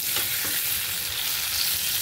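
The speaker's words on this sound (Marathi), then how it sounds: "छानपैकी आपल्याला तेलामध्ये ही वांगी परतून घ्यायची" Brinjal pieces sautéing in oil for spiced rice give a steady, loud, close sizzle with a couple of soft stirring scrapes near the start and no talking.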